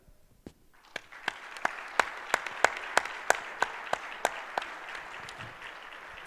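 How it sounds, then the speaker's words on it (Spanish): An audience at a regulatory-history panel in Mexico applauds, starting with a few scattered claps that settle into a steady, fairly even clapping rhythm over a soft crowd wash. "les pido que me acompañen dándole un aplauso"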